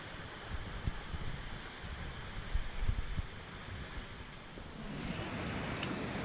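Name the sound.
waterfall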